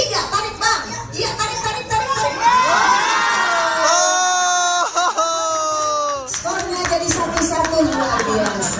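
Wedding guests at an Indonesian marriage ceremony cheer, whoop and shout loudly as a crowd, with some light clapping mixed in. The roar is sustained and close, swelling in the middle before settling into a busier, chattering hubbub.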